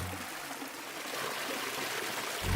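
A mountain forest stream flows with a soft, continuous hiss and trickle of water, fairly faint and steady throughout, with no voices.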